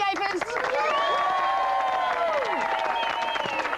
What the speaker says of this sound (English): Beautiful round of applause to the landscapers